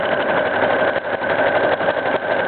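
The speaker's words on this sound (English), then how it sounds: "push the pedal and sit back and watch the machine do the work" A sewing machine runs steadily while stitching a buttonhole on its own, its motor whirring in a continuous, even drone for the full stretch with only slight dips in loudness and no voices.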